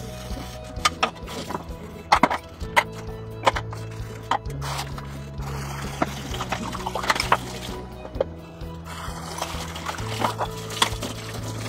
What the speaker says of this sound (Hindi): कुछ बर्तन है वो धो लेती हूँ मैं